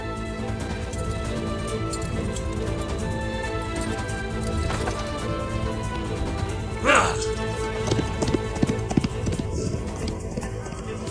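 Horse hooves clip-clopping in a dubbed historical battle drama, with steady hoofbeats mixed under a dense layer of music, voices and other action noise.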